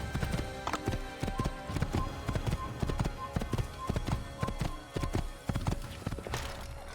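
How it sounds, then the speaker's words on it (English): Horse hooves clip-clop at a steady trot in the video game Assassin's Creed, a close, even rhythm of sharp hoof strikes with a busy background underneath. "No, there's my horse."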